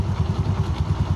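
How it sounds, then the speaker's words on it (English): A Honda Navi motorcycle engine idles with a quick, even, low thumping beat, close by and alone. "So we're going to start it up, let it run for a couple minutes"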